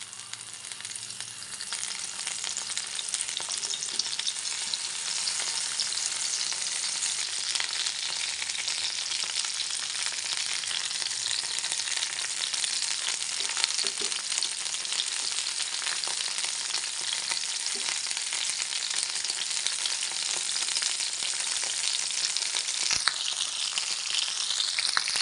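Raw mango and tomato sizzling in a pan as they cook for a chutney, a steady, dense crackle of frying that continues without a break, with occasional soft scraping of stirring.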